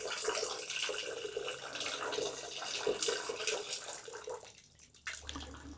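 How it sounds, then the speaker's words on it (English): Water poured through bark in a plant pot while repotting, a steady splashing, trickling rush that runs for several seconds, close and moderately loud, then tapers off. "that's just poured a bit of water through that plant."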